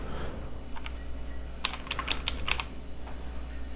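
Keys tapped on a computer keyboard while text is entered into a box in a software program, a quick burst of clicks in the middle then a couple of stray taps, close and clear over a low steady hum.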